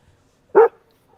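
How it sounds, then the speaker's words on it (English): A single short, sharp dog bark close by, standing alone against near silence. "Everybody's dogs barking back."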